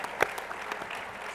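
An audience at an ADCOLOR event claps in a dense, steady burst of applause, moderately loud throughout.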